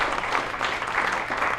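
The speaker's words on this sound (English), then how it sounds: "Give yourselves a round of applause for coming out and supporting live comedy" Live comedy audience in New Brunswick breaks into applause, a dense, continuous wash of many hands clapping, close and fairly loud for the whole moment.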